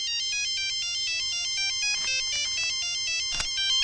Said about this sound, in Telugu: నీ దగ్గర సెల్ ఫోన్ ఉందా ఏ ఫోన్ వస్తుందా